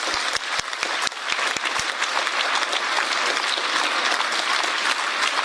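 A recorded crowd gives a standing ovation, dense sustained applause that starts with a few sharp distinct claps and then settles into a steady, loud wash of clapping.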